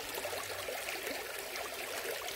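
Small stream on a grandmother's country property, its cold water trickling and burbling as a steady, close broadband wash with no pauses.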